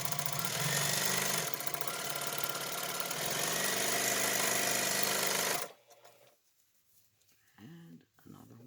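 A sewing machine stitches pieced quilt blocks for a scrappy paper-pieced crazy quilt, running loud and steady for several seconds before stopping abruptly, followed by quiet handling noises and a few faint words.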